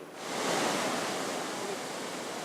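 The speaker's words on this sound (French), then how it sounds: "Des vagues exceptionnelles qui naissent au Portugal, au large de la ville de Nazaré." Ocean surf off Nazaré, Portugal rushes in with a broad, steady roar that swells early and then holds, no voices.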